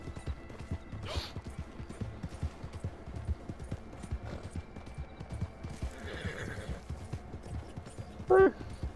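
Rhythmic clip-clop of horse hooves galloping steadily in Red Dead Redemption Online, with a horse neighing near the start and a sharp whinny near the end.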